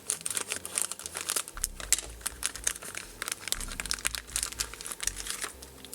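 The plastic parts bag of a Gikfun portable game kit crinkles and rustles as it is handled and cut open, a close, irregular run of crisp crackles with no talk.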